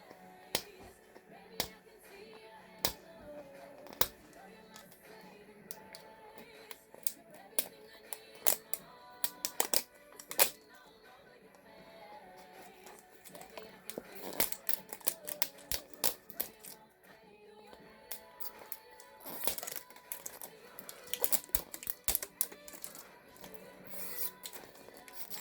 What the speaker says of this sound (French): On va commencer par cette boule. Alors, je vais l'ouvrir par là déjà.